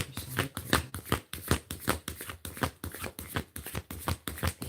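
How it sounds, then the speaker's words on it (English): A deck of cards shuffled for a card reading, with repeated riffling bursts in quick succession, close up and fairly loud, with no talking over them. "I'm gonna pull some more cards."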